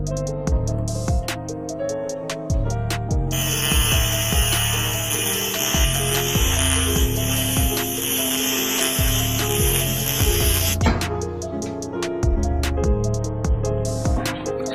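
A grinder works over patch-welded holes on a Suzuki 750cc motorcycle frame, a loud, continuous harsh grinding with a high whine that rises and falls as the tool presses in and eases off, heard alone.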